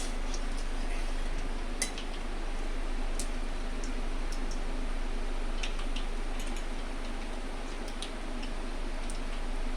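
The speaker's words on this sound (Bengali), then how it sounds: "সর্ষেটা ফোটা পর্যন্ত অপেক্ষা করব।" Mustard seeds crackle in hot oil in a home kitchen, a steady close hiss broken by scattered sharp pops and ticks throughout, with no voices.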